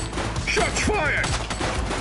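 Rapid bursts of gunfire crackle through a dense, noisy police-action game scene in The Precinct. The shots blend into a continuous fusillade under overlapping voices and background clutter.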